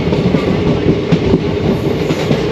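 At Bengaluru railway station, a train gives a loud, close, rumbling roll with a steady clickety-clack of wheels over rail joints, and no voices are heard.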